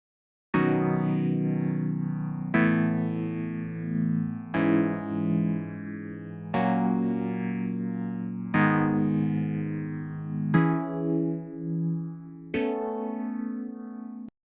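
Seven chords of a progression played back in Scaler 3, each one struck and left to ring for about two seconds in a slow, even sequence, with a clean synthetic tone and no voices.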